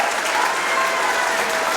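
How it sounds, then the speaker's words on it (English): An audience at a school sports awards ceremony applauds its most promising male athletes, a dense and steady wash of clapping throughout with no pauses. "Round of applause for our most promising male athletes."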